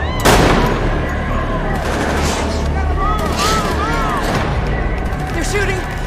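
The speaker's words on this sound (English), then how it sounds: "They're shooting at us!" Gunfire from an episode of The Last of Us, dense bursts of rapid shots and loud bangs throughout, with shouting voices over the shooting.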